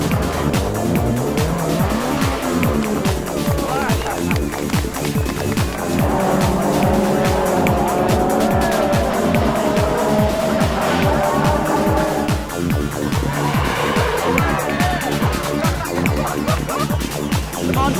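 Rally cars in a race crash, with a steady engine roar, squealing tyres and skidding throughout and a longer screech midway, all continuous and fairly loud; a commentator's voice faintly underneath.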